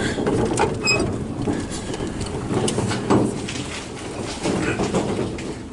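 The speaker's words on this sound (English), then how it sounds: "A little bit of jingling in the rear end. Must be a loose pen or something, like a cotter pen." A Marketeer golf cart's rear end jingles from a loose pin, likely a cotter pin, a continuous metallic rattle and clatter under the rumble of the cart moving, close and steady.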